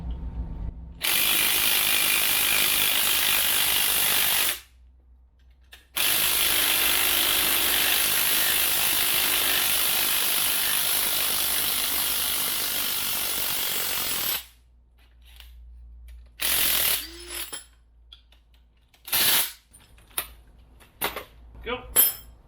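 A hand ratchet loosens a strut spring compressor on a Honda, giving long runs of rapid, close clicking followed by short choppy bursts and pauses.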